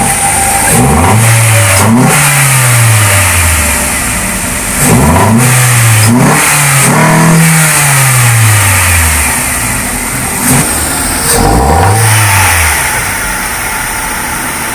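A Hyundai H-1 van fitted with an open air filter idles loudly up close and is revved in several sharp bursts, the engine pitch climbing and falling back each time.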